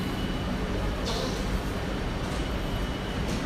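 Railway station ambience at Paris Gare de l'Est during rush hour, a steady broadband rumble of trains moving along the tracks with faint higher hiss, continuous and fairly distant, no talk.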